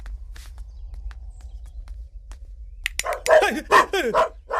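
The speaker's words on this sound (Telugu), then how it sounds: "calling bell కుక్కరుపుతో calling bell" A doorbell that plays a dog barking sound, in a Telugu comedy film scene: after a near-silent stretch, a burst of several close, loud barks and yips comes in quick succession.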